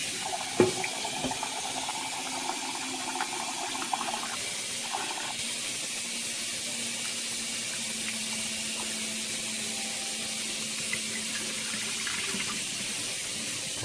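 Water runs steadily into a pot of rinsed rice, covering it about an inch over the top for a home-cooked meal. The pour is a continuous, close hiss and splash with no talk.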